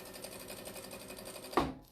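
Sewing machine stitching fabric for a strip tote bag made from jelly roll strips, a fast, steady mechanical whirring with rapid rhythmic ticks, ending in a brief louder clunk as it stops.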